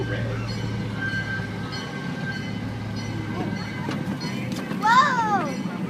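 A miniature zoo train carries riders along its track, with a low steady rumble of rolling cars, children's voices chattering, and a brief high squeal of wheels near the end.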